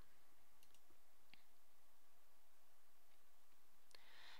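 Faint, sparse clicks from a computer mouse being pressed on a page navigation button, a handful of short isolated taps over quiet background hiss.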